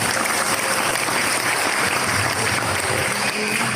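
Audience applause from a gathering at a religious lecture, with dense, steady clapping filling the space at a loud, even level throughout, no voices on top.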